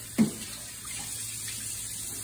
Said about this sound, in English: Make sure you wash your hands after.